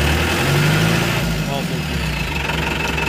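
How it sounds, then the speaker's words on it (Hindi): An engine holds a steady idle, a low continuous hum with even vibration throughout, while a voice speaks over it. "इंजन स्टार्ट पे है, आइडल स्पीड में है"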